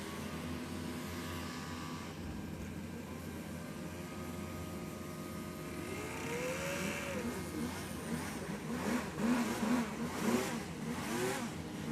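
Racing hovercraft engines idle and rev on a starting grid of twelve craft, a continuous mid-pitched drone that swells and grows rougher and louder toward the end with overlapping revs.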